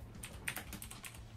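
Rapid keystrokes clatter on a computer keyboard, a steady close burst of taps lasting just over a second with no voices.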